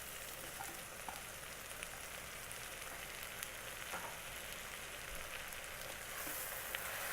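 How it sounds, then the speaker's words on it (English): Mushrooms fry in an Instant Pot for an Indian-style curry pasta, giving a faint, steady sizzle with small crackles throughout. "Let it get fried for a minute."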